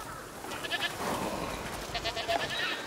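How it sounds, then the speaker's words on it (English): Goats bleat in the video game A Plague Tale: Requiem, several short wavering calls close by amid a busy ambient background. "What's over there? Goats!"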